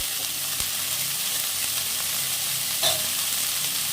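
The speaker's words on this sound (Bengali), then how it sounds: "বন্ধুরা এগুলো ভাজা হয়ে গেছে, তুলে নেব।" Broccoli fries in a pan with a constant bright hiss of sizzling oil, close and even for the whole stretch, with a couple of soft stirring knocks and no voices.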